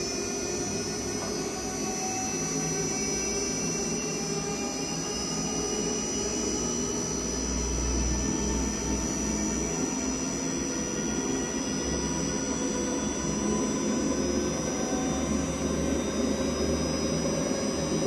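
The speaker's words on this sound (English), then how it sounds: "Speed up to the max speed" A 2000L horizontal ribbon blender with a heating jacket runs at maximum shaft speed, giving a loud, steady mechanical drone with a constant hum and whine that holds throughout without a break.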